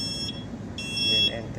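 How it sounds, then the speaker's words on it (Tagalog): Echo sounder depth alarm on a test setting gives a steady high electronic tone in two short bursts, heard fairly close against a low background hum. "Ito lang simple pag-test ng deep alarm test dito sa Echo Sounder."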